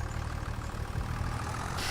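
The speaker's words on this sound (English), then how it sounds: "that tractor was massively loud in my ear." A tractor engine in the video game Farming Simulator 25 runs steadily and loudly, a continuous low idling rumble that holds for the whole stretch with no talk over it.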